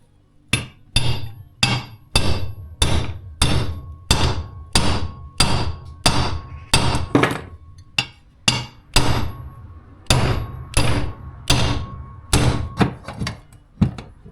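Repeated sharp metallic hammer blows ring out close by as bearings are hammered into a Yamaha DT 125 engine case, around twenty strikes in a steady rhythm with brief pauses between groups.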